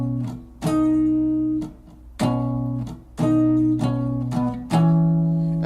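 Guitar playing a riff, four strummed chord phrases with short gaps between them, close and clear with no talking.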